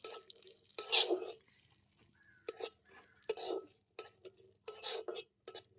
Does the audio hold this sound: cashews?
yes